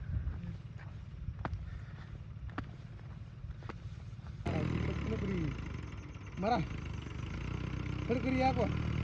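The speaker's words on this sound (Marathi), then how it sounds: "आता येत आहे आपला जोडदारचा अर्जुन ट्रॅक्टर आहे 505" A Sonalika Arjun 505 tractor engine on a farm at night rumbles in a steady low drone that grows louder and fuller as the tractor draws near. People talk over it.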